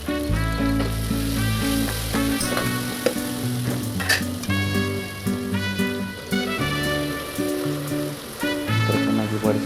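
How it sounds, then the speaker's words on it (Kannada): Vegetables with tomato and a pinch of turmeric sauté in a pan for veg pulav, sizzling continuously with occasional stirring clatter, while tonal music plays underneath. "ಅದನ್ನು ಕೂಡ ಚೆನ್ನಾಗಿ ಬಾಡಿಸಿ ನಂತರ ಒಂದು ಚಿಟಿಗೆ ಅರಿಶಿನ ಪುಡಿ ಹಾಕೋಣ"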